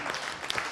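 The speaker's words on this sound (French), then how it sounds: "on vous applaudit" Brief audience applause at a healthcare colloquium, a soft wash of many hands clapping at moderate volume with a couple of sharper claps standing out.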